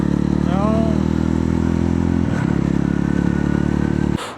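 A Yezdi Roadster motorcycle ridden on curving mountain roads, its engine holding a loud, steady throbbing drone close by with a faint rattle, then cutting off abruptly just before the end.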